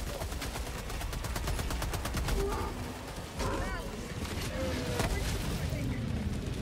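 Rapid autocannon fire in a video game, a continuous stream of loud, evenly spaced shots with booming impacts, briefly dipping midway, under chatter and game noise.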